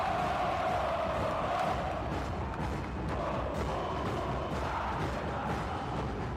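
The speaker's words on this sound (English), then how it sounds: "the crowd in full swing, and they've been like this for the last hour" A basketball arena crowd at a FIBA final between Al Ahly Sporting Club and Ferroviario Maputo keeps up a sustained, distant roar of cheering and shouting, swelling slightly in places.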